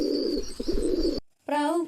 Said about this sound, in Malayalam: ഇനി ഞാൻ ഒരു പ്രാവിനെ വിടാം